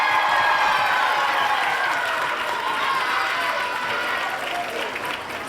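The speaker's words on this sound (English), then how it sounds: "Yes, you can cheer." An audience at a school graduation ceremony bursts into sustained, dense applause and cheering that fills the hall, tapering slightly toward the end.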